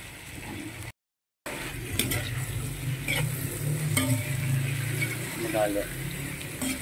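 Chicken sautéing in a pan for sinigang na manok: a steady sizzle of frying runs through the clip, with intermittent scraping and clanks of stirring. A voice speaks briefly near the start, and the sound cuts out for a moment.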